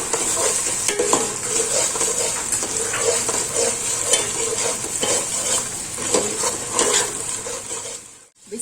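A spoonful of ginger garlic paste with ground green chillies sizzles and fries in a pan for chow mein, a spoon scraping and stirring steadily throughout. It stays close and continuous with no talking.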